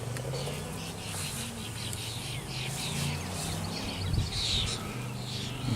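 Honey bees buzz steadily around an open hive during an inspection, a continuous droning hum with a few louder passes close by, set against faint outdoor ambience.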